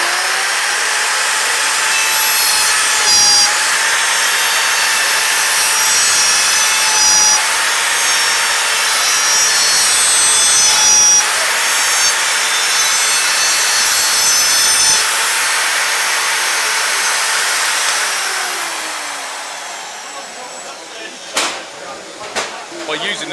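A router cuts wooden dovetail fingers on a Trend CDJ300 dovetail jig, giving a loud, steady, continuous whine with brief dips as the bit moves in and out, then winding down near the end. A voice is present at times.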